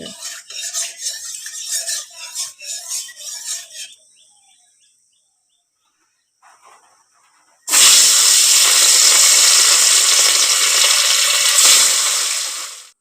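Fish frying in a pan in a home kitchen: after light tapping, clinks and a brief quiet spell comes a loud, sustained sizzle that runs close and steady for about five seconds.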